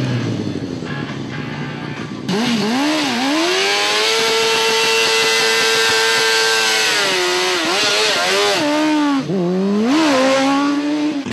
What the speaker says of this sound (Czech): Že to bylo gumování zadku, zamačkne se teda přední brzda, naloží se tomu pořádně, pustí se prudce spojka a drží se to.